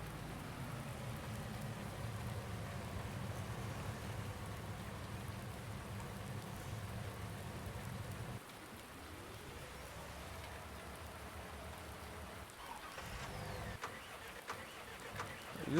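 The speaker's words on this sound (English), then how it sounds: "This rain is torrential." Heavy, torrential rain pours steadily in the Farm Simulator game, a dense continuous hiss that holds level throughout, briefly dipping midway before building again, with no talking over it.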